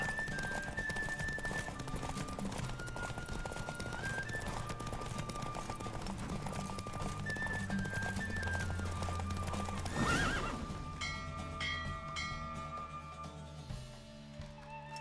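In The Witcher 3: Wild Hunt, rhythmic hoofbeats of a galloping horse pound continuously, joined by loud whinnies and a swell of background music, with a brief sharp burst near the end.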